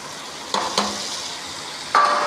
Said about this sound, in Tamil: வெண்டைக்காவை உப்பு கொஞ்சம் போட்டு வதக்கிடலாம்.